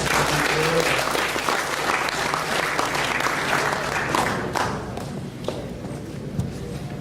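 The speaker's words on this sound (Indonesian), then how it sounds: "Mungkin bisa kita berikan tepuk tangan" Sustained applause from a workshop audience fills the room, dense and steady, thinning slightly toward the end.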